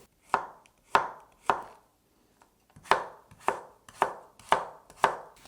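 Leftover carrot and zucchini being chopped on a cutting board for Korean stir-fried pork, eight crisp knife strikes in two groups with a short pause between, close and clear with no talking.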